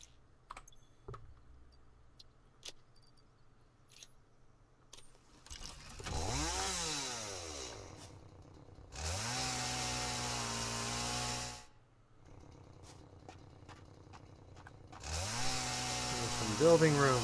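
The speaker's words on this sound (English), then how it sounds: "we need to get out our chainsaw here" Chainsaw in the video game Satisfactory revs in three bursts, each starting with a rising whine that settles into a loud, buzzing engine drone, separated by short gaps and preceded by quiet clicks and keyboard tapping.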